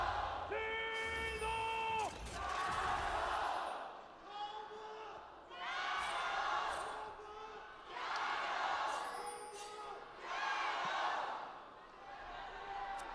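An esports arena crowd at an LPL League of Legends match between Top Esports and JD Gaming cheers and chants in rhythmic surging waves. A caster's voice talks over the roaring, echoing crowd.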